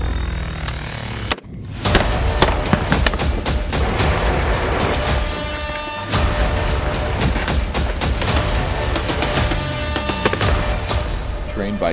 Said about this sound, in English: soldiers from NEOS go in depth for 2 weeks, shooting various weapon systems